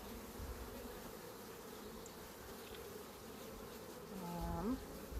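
Honey bees buzz softly in an opened hive, a faint continuous hum with a single bee's louder drone passing close near the end.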